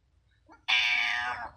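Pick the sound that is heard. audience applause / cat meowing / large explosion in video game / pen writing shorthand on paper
cat meowing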